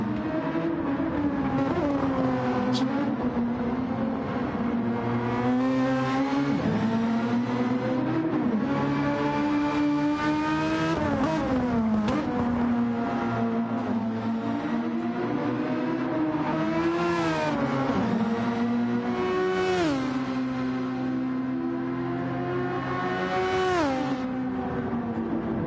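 Race cars roar steadily through the Grand Prix Legends game at a WEC round on the Grand Valley circuit, engines rising and falling in pitch as they rev through gears and pass, loud and continuous with no talk.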